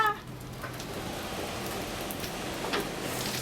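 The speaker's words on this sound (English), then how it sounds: "Make it stop raining." Rain patters steadily on surfaces aboard a research vessel at sea, a soft, continuous hiss with a few sharper drops, faint and without speech.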